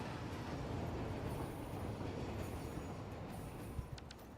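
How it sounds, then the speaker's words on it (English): Train rolling past in the factory-building game Satisfactory: a steady rumbling wash of rail noise with faint metallic squeals and clicks near the end, fairly quiet. "Train jump scare."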